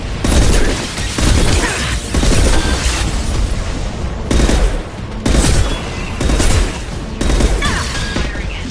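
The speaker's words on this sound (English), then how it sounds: "Firing concussive shot!" Weapon fire in Mass Effect 2 comes as loud, repeated bursts of gunfire and booming blasts, pulsing in heavy waves roughly every second with no speech over it.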